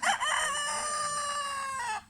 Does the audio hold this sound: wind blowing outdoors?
no